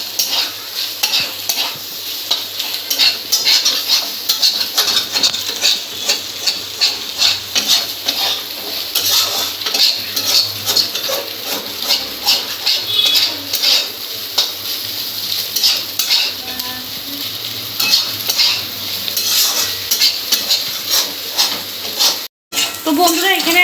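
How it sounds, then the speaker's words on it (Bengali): Egg is stirred and mixed in a pan with vegetables for egg chowmein, giving steady scraping and clinking of a utensil over a continuous close sizzle that runs for the whole stretch without pause. "তো ডিমটাকে এবার ভালো করে মিক্স করে নাড়িয়ে চাড়িয়ে নেব।"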